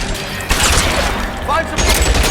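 Gunfire in the L.A. Noire video game: a burst of rapid shots near the start and another around the middle of a short, busy stretch, with a shouting voice mixed in.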